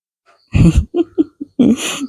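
A person coughs several times in short, harsh bursts, close and loud, with brief pauses between.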